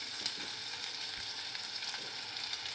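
Spice masala sautéing in a pan for a village-style stuffed brinjal dish with green chillies, giving a steady, close, continuous frying sizzle with faint stirring scrapes and no voices.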